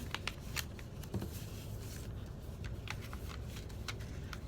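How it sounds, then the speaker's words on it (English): Paper corners folded into the center and creased on a table, giving a run of soft, crisp crinkles and brief scrapes close by with no talking. "you're gonna fold each corner into the center point, just like that."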